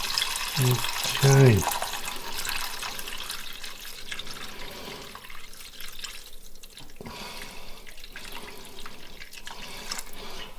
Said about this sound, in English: pour in 1000 millimeters of water.